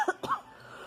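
Second-grade child with a bad cough on a school trip to a family farm, giving two quick, close coughs in rapid succession.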